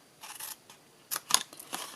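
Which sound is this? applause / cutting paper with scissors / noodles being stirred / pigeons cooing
cutting paper with scissors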